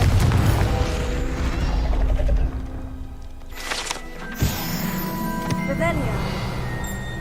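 Confringo fire spell blasting in Hogwarts Legacy, a loud rumbling boom with mechanical crunching that fades into quieter clanks and magical chimes, with game effects layered throughout.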